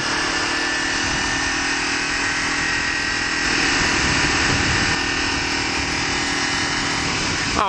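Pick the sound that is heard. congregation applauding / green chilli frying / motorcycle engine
motorcycle engine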